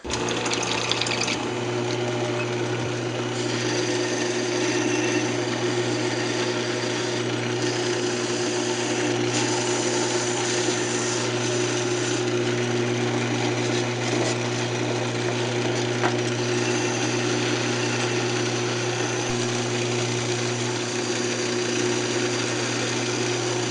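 Wooden leg being sanded on a woodturning lathe while it spins, part of a custom speaker box. A steady, loud whirring drone with a hiss of abrasive runs unbroken throughout, with no talking.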